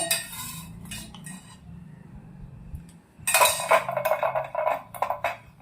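Metal idli plates clink and scrape in a kitchen as they are greased with oil, with a few soft clatters early on, then a denser burst of close, bright metallic clinking and rattling in the second half.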